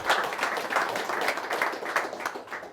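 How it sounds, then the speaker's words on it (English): An audience at a Philly Tech Week 2019 event claps steadily for a few seconds, a dense, even patter of many hands with no voices over it. "give him a round of applause."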